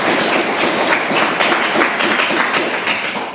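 A class of students applauds together in a classroom, a dense, steady wash of many hands clapping at close range that holds evenly for a few seconds with no pause.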